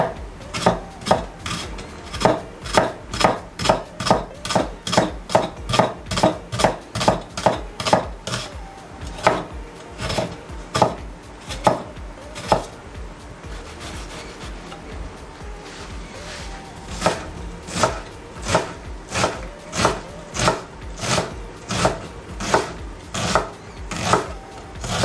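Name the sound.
knife chopping onion for béchamel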